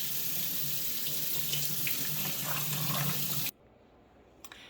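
Soaked beans are rinsed under a running kitchen tap for hummus, a steady, close rush of water that cuts off abruptly, followed by a few faint clinks.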